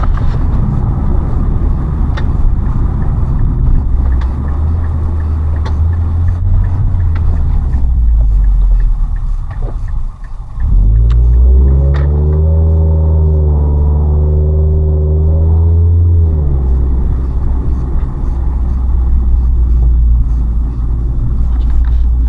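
Car driving along Cecil Avenue, a leafy, quiet suburban road in Sydney, Australia, giving a continuous loud low engine and road rumble with a brief dip and shifting tone midway.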